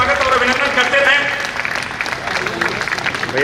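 Audience applause welcomes guests at a civic ceremony in Pandit Dindayal Upadhyay Nagar, Chandauli, a steady wash of clapping running throughout beneath a loud announcer's voice.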